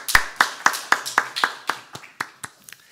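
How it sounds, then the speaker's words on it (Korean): A church congregation claps in praise during a Korean morning worship service: about ten quick, evenly spaced claps that gradually fade toward the end, with no talking. "우리의 소망 우리의 생명 되신 주님께만 감사와 찬양의 박수 드리기 원합니다"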